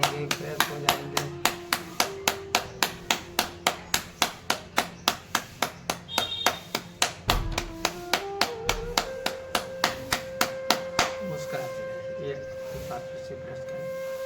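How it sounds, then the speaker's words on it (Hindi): A yoga group claps in steady rhythm, some thirty sharp even hand claps close and loud, slowing and thinning toward the end. A voice talks beneath the claps, and a tonal hum runs underneath. "एक बार पुनः ताली कर लेते हैं"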